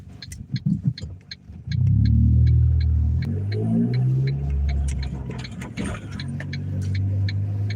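A Ford Mustang engine rumbles loudly with a deep, throbbing low growl that rises and falls, alongside faint rhythmic ticking in the background.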